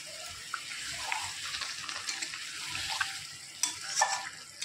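Chicken stir-frying in a pan with a little water added crackles and sizzles steadily, with intermittent scraping and stirring knocks, a louder burst of spatter near the end, and no talking.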